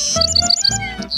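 Birds chirp in a forest: a quick series of bright, rapid tweets, loud and close, over a soft low background.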